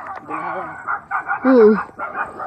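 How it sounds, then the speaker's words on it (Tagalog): A few close, sharp dog yips and barks break out between bits of people talking nearby. "Ayan na yung mga aso"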